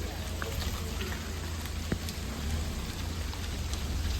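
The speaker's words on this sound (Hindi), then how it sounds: "बारिश हो रही है भगवान जी भी खुश हैं" Steady rain patters and crackles on a surface with a soft low rumble beneath; occasional faint sharper drops, no clear talk.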